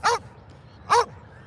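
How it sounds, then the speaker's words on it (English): Two loud, close dog barks, evenly spaced less than a second apart, with quiet in between. "So that's why he's barking."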